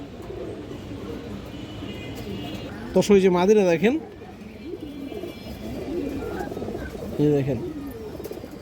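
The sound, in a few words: high flyer pigeons cooing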